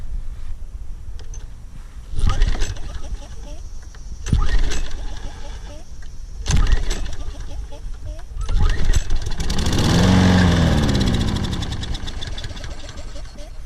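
Toro Personal Pace Recycler model 20332 lawn mower with a fuel problem being cranked repeatedly, each pull giving a brief sputtering burst that fails to catch, with a longer churning attempt near the end and talk between pulls.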